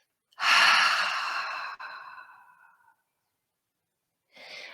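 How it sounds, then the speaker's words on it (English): A single long exhale through the mouth during a mindfulness meditation, a close, breathy sigh that fades over about two seconds, then a short fresh breath after a pause. "and exhale through the mouth."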